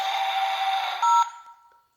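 A Tomy Plarail C62 steam locomotive toy gives a steady electronic beeping tone, then one louder, sharper beep that trails off quickly into silence.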